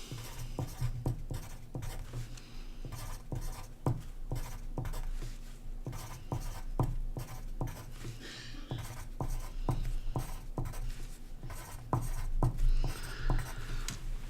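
A pen or pencil writes numbers by hand on paper, giving close, steady scratching strokes with short taps and pauses throughout.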